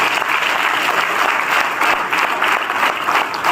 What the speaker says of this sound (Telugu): ఒకసారి గట్టిగా క్లాప్స్ ఇవ్వండి